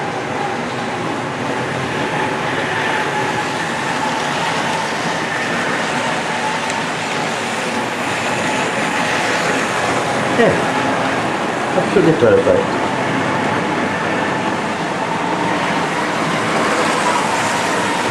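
A Tri-ang Budd DMU model railcar with serrated wheels runs steadily on track, a continuous close rumble and rolling hum with brief clicks, while a person talks briefly over it.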